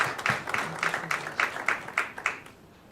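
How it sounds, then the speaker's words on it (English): Meeting attendees give a short round of applause, a handful of distinct, fairly sparse claps in a quick rhythm that fade out after a couple of seconds. "could you all please give a round of applause to Mr. Yusuf?"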